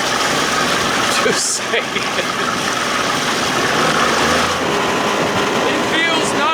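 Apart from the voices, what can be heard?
60 hp Johnson outboard motor running on prop test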